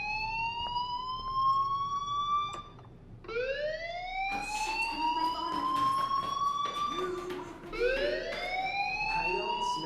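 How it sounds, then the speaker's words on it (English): A school fire alarm in the video game Life Is Strange rings in repeated rising electronic wails, loud and steady, each sweep climbing in pitch before restarting, with faint background sound beneath. "Hey, do you hear that fire alarm?"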